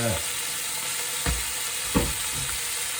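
Lamb vindaloo sauce bubbles and sizzles steadily in a hot pan, with a few soft thumps as it is stirred.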